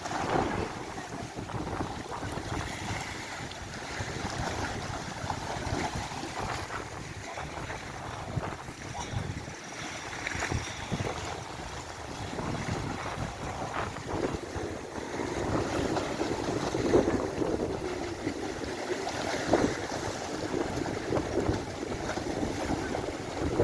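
Strong wind sweeps across Marmaris harbour in Türkiye during stormy winter weather while moored boats swing, a continuous loud roar of gusts, buffeting and water noise filling the whole stretch without a break.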